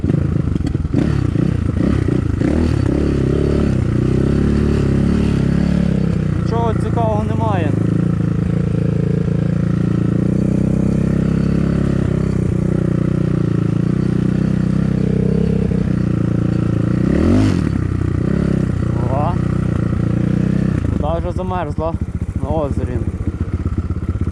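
A BSE 250 enduro motorcycle rides through a forest, its engine droning steadily and loudly up close with several revving surges and clattering bumps, while a rider's voice talks over it at times.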